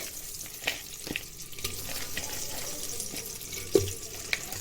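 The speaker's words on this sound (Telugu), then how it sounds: "ఇప్పుడు పీతలు వేసుకున్నామండి." Crabs dropped into hot oil for a crab curry sizzle with a steady hiss and sputter, broken by a few sharp clinks and splashes of the pan.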